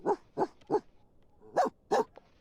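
A puppy in The Sims 4 gives a series of short whimpering yelps, three quick ones, a pause, then two more, close and fairly soft.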